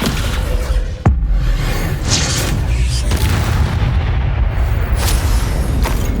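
A boom bursts out during spellcasting combat in the Hogwarts Legacy video game, followed by a dense, continuous rumble of game action with a few sharper cracks.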